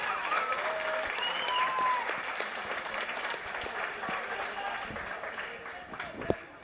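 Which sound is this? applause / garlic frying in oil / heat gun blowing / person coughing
applause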